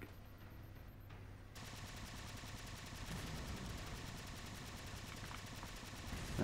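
Gunfire in the video game Halo Spartan Ops comes as dense, rapid automatic bursts that roll on continuously and grow slightly louder, with an engine-like rumble beneath and no talking.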